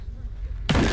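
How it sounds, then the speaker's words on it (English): In the dark platformer game Darq, a sudden loud explosion erupts after a quiet stretch of low rumbling ambience. The blast is a broad, full-spectrum boom that stays strong to the end of the moment. "Oh, explosion."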